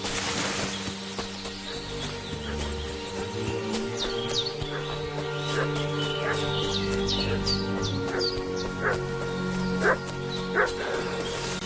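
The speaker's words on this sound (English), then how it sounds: "What's that dog making such a fuss about?" A dog in Kingdom Come Deliverance 2 barks in a series of sharp yaps over a busy outdoor soundscape with birdsong and a low droning music bed, the barks spaced irregularly and growing more prominent toward the end.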